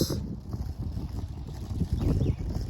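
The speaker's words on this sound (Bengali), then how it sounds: "প্রচন্ড বাতাস" Strong gusty wind rushes and buffets outdoors in London, a steady low roar with no talk.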